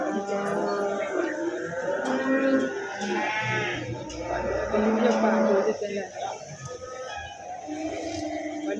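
Cattle at the Payakumbuh livestock market, with several loud drawn-out moos and bleating calls overlapping one another, close by and filling the whole stretch amid crowd noise.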